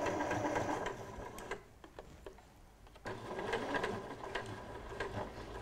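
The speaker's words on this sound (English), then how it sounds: "you're stitching as close to the cord as you can" A sewing machine stitches close to a piping cord, running in a rapid mechanical whir that pauses briefly with a few clicks before starting up again.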